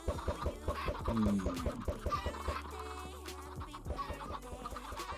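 Minecraft chickens cluck repeatedly in quick, overlapping calls, close and fairly quiet, mixed with other game sounds.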